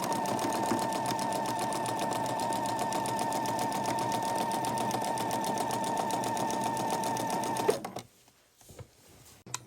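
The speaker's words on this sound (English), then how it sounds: "we're sewing the last row on before we start our borders" A sewing machine stitches the last row of a quilt in a fast, steady mechanical whir that runs continuously, then stops abruptly near the end, leaving a quiet room.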